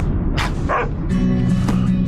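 A dog barks and yips a few times in a film scene, short bursts over a steady music bed, at moderate loudness.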